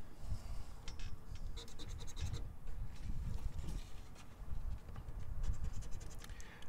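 A coin or fingernail scratching Texas Lottery scratch-off tickets, a dense run of rough rasping strokes repeating in quick bursts, close and fairly loud with no talk.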